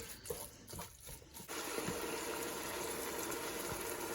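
Water poured into a hot pan of frying fish, which starts a loud steady sizzling hiss that carries on without a break. Before it comes a few seconds of quieter cooking noise with soft knocks.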